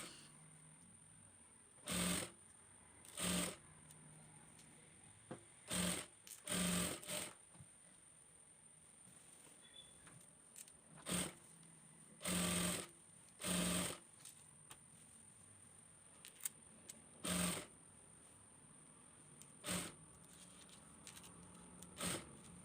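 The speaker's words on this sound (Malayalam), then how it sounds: "ഇതുപോലെ കറക്റ്റായിട്ട് വെച്ച് ഞൊറൂട്ട് താഴേക്ക് സ്റ്റിച്ച് ചെയ്തെടുക്കുക" Sewing machine stitching gathered puff sleeves on an abaya, in several short bursts of running stitches separated by pauses, fairly close and clear with no talking.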